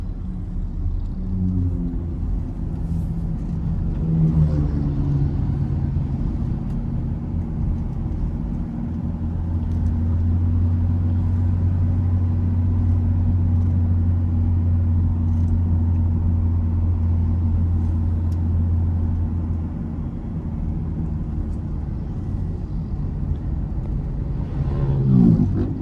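A 2016 Toyota Kijang Innova Reborn with a 2.4-litre engine holds second gear on a long downhill, a steady low engine rumble and drone that swells in the middle and eases again, heard from inside the cabin with no talk.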